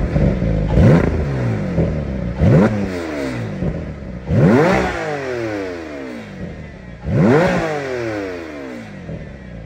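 Stock exhaust on a Porsche Cayman GT4 revving hard in three distinct bursts, each climbing sharply then falling away, loud and close with no talking.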